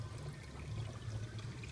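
Bucket water running into a saltwater aquarium tank as a fast drip that has become almost a steady stream, heard as a continuous close trickle and splash over a low background hum.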